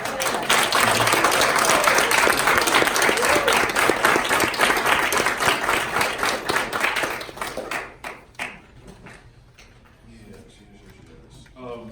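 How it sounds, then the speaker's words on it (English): A loud round of applause from the audience at a speech competition, dense clapping for about seven seconds that thins into a few scattered claps and dies out, with voices under it. "Can we get a round of applause?"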